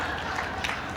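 Brief burst of audience applause at a 1999 building dedication ceremony, a steady wash of many hands clapping at moderate level with no voices.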